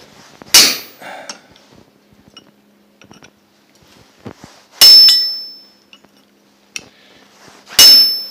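Hot steel is struck with a hammer to split it: three sharp, ringing metallic blows spaced a few seconds apart, with quieter taps and shuffling between them.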